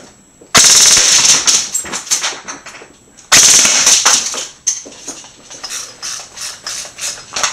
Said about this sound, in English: Alright, we have the Systema Magnum motor installed. We can go ahead and test the rate of fire.